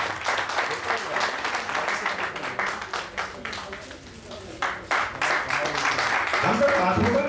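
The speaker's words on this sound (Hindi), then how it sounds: "जोरदार तालियां बजाते रहिए।" Audience applause at a Baroda Road Transport Association annual general meeting, steady crowd clapping filling the room with voices mixed in throughout.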